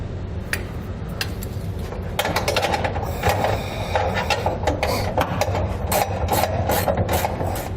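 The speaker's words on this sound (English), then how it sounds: "We'll use a 3/4 inch socket and wrench." A 3/4 inch socket and wrench tighten the bolts of a B&W underbed fifth wheel trailer hitch, giving close rapid ratcheting clicks in bursts with some rubbing and metallic scraping.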